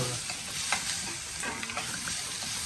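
Onion and garlic fry in a pan for an amti curry, a steady close sizzle with stirring scrapes throughout and no talk.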